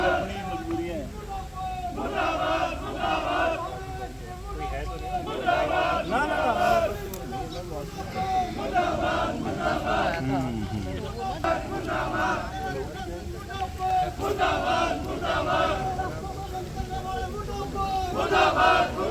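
Crowd of Haryana farmers outside the Fatehabad deputy commissioner's office chanting protest slogans in unison, rhythmic shouted call-and-response phrases repeating throughout over outdoor crowd murmur.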